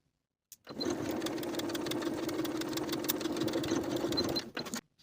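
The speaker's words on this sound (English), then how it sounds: "Edge stitch along that short straight edge of the coin pocket from the top to the bottom" Edge stitching runs along the short straight edge of a denim coin pocket on a sewing machine, starting after a brief pause and whirring steadily at close range for about four seconds before stopping.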